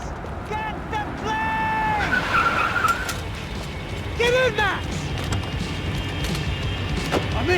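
In the video game Max Payne 3, a car speeds and skids. Tires squeal in several sharp bursts over a loud engine roar and road noise, with no one talking.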